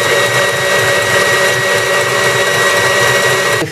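An electric stand mixer whipping eggs for springerle cookie batter, a loud steady motor whir with high whine, running continuously and cutting off at the very end, no voices.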